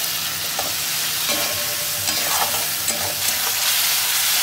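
Tomato masala with Kashmiri red chilli and salt being sautéed in a pan, with a loud, steady, close sizzle and soft stirring scrapes rising through it.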